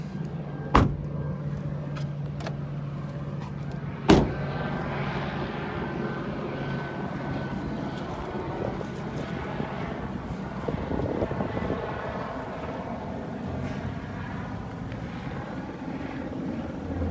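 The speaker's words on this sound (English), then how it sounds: "That's the police helicopter overhead." Police helicopter passing overhead during a night protest in Oklahoma City, a continuous broad rotor rumble at moderate distance, with a couple of sharp knocks early on and a steady low drone throughout.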